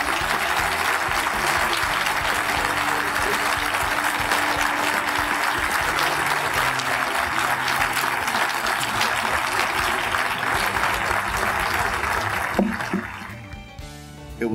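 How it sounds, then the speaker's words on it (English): At a Justice Coalition award dinner in Jacksonville, a large banquet audience claps for an honoree. Dense, sustained applause runs loud and unbroken for about twelve seconds, then thins and fades out. "please give a warm round of applause to Officer Ike Brown"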